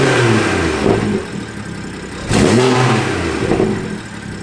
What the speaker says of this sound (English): I'm gonna go ahead and turn the car on, give it a couple revs, see what it sounds like